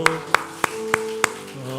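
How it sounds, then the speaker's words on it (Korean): A church congregation at a Sunday worship service claps in slow, even rhythm: five sharp, evenly spaced claps over sustained music. "박수로."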